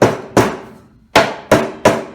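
A rubber hammer taps the glued joint of a wooden archery stand, landing four sharp, separate knocks at uneven intervals, close and loud, with short ringing tails and no voices.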